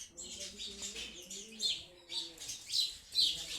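Small birds chirp in the morning, a lively cluster of high, overlapping tweets and calls repeating in quick bursts close by, with no voices.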